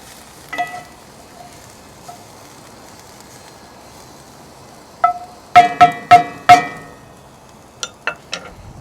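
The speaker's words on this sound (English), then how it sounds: "And just give it a stir" Onions and chopped garlic sizzle quietly in a pan on a Kamado Joe Classic 3 grill, broken by bursts of louder scraping and clinking as a utensil stirs them, near and without talk.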